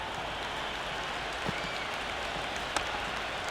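Steady broad crowd roar from a cheering cricket stadium audience during an India vs Pakistan T20 World Cup match in the video game Cricket 26, a continuous wash of noise with a couple of brief sharp accents, no talk over it.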